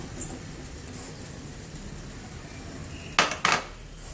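A metal pot and utensils clink twice in quick succession near the end while butter and coarsely chopped bittersweet chocolate are melted over low heat; the rest is quiet kitchen background.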